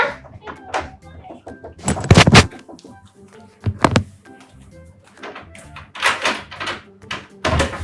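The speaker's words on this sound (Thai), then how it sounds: "อุ้ยมีคนเคาะห้อง" Several knocks strike a dormitory room door, arriving as short loud bursts in separate clusters while agitated voices talk and shriek around them.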